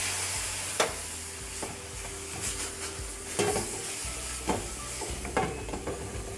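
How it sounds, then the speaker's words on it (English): Garlic fries in a pan with a steady sizzle while it is stirred continually, with scraping strokes recurring roughly every second. "Cook this for another minute so the garlic gets nice and fragrant, but make sure it doesn't burn, so stir continually"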